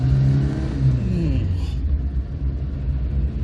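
Engine of a 1978 Fiat 127 1050 CL revving on a hill, a steady mid-low drone that rises in pitch partway through, heard from inside the car under continuous rumble.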